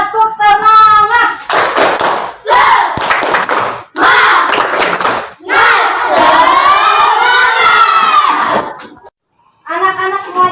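Schoolchildren in a classroom chant and shout loudly together in a tepuk semangat cheer, several bursts of voices close by with clapping mixed in and short pauses between.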